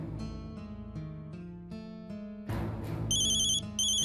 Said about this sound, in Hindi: फोन आ रहा है। उठाओ।